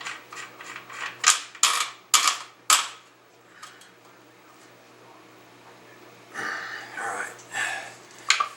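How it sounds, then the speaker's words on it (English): A magazine cap is screwed back onto a Benelli Nova shotgun after a duct plug is reinstalled, giving a run of close, sharp metallic clicks and ratcheting, then a softer scraping turn after a quiet stretch. "Install our duct plug back in here, and then screw our cap on."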